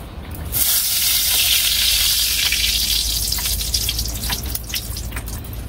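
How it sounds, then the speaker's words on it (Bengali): Fish drops into hot pure mustard oil and starts frying. A loud, close, steady sizzling hiss begins abruptly and carries on, with faint crackles and pops toward the end. "খাঁটি সরিষার তেল। মাছ ভেজে নিন।"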